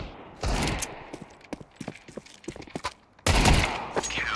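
Pistol gunfire in a Counter-Strike 2 match, several sharp single shots spaced irregularly amid game noise, ending in a louder sustained burst.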